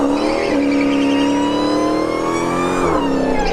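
Dodge Hellcat cars roar through a drag run at Bradenton Motorsports Park, one wearing a Demon hood; a loud, sustained engine note climbs through the gears with two shift breaks, close and continuous with no talking.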